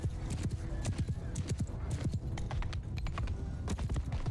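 Cavalry horses' hooves clip-clop continuously and densely across a Mount & Blade II: Bannerlord battlefield, many animals galloping at once with an occasional whinny, a loud steady rumble of overlapping hoofbeats.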